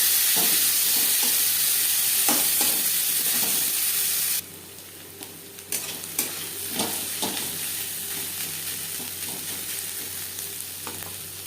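Onions, tossed with a little salt and turmeric, fry in oil left over from frying fish, giving a steady close sizzle and hiss with occasional stirring scrapes; the sizzle drops and softens partway through.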